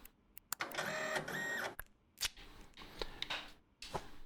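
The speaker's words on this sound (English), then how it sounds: "We've never had to fill the printer, so it's got a lot of labels in it." A label printer in the Parcel Simulator video game whirs through several mechanical printing bursts, with sharp clicks and short pauses between them. Nobody talks over it.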